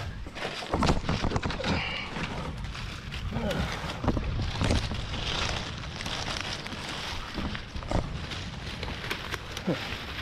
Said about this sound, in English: now that cold wind is blowing